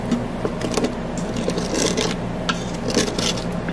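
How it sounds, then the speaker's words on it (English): A utensil stirs broth in an Instant Pot to loosen browned steak bits, making close, continuous scraping and rubbing strokes in an uneven rhythm, with no voices over it. "Let's stir this around a little bit to loosen everything up."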